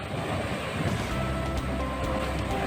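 Strong sea waves slosh and crash around a small fishing boat out on the water, a steady loud rush of surf and wind noise with no pauses.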